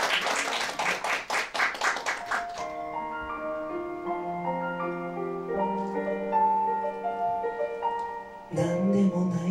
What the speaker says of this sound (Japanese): 大きな拍手でお迎えください。